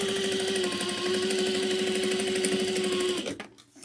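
A sewing machine backstitches a seam on a slouch bag, running as a steady, close mechanical whir for about three seconds before stopping abruptly.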